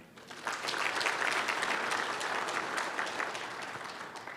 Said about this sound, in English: let's give a round of applause to the AEO team